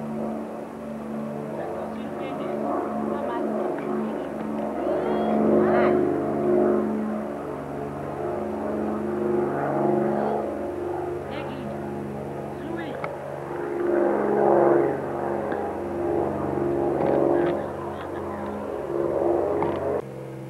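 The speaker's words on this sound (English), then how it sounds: "He likes the tractor." A farm tractor engine runs steadily at close range with a droning, harmonic rumble that swells and eases a few times, while people talk over it.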